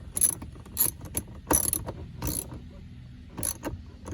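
A ratchet wrench tightens bolts on a Nissan Titan or Armada during a backup sonar buzzer repair, several short bursts of clicking pawl sounds separated by pauses, close and fairly crisp.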